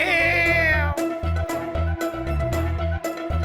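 A cat meows repeatedly in short, loud, close cries, one drawn-out call followed by several quicker yowls.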